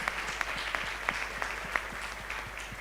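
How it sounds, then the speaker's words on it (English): Applause for a group of women at a women's economic empowerment gathering, thin and fairly quiet, with a few sharper individual claps standing out at a steady pace over a low background hum. "Let's please give them a huge round of applause"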